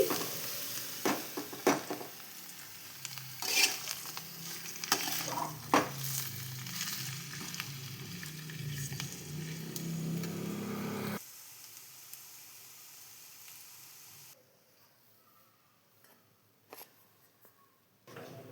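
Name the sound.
sasava leaves frying in a pan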